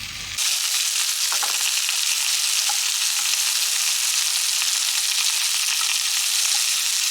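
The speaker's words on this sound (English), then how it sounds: "This time we do want to colour the onion a bit" Onions frying in a pan, a steady, bright sizzle with faint crackles and pops, continuous and close from start to finish.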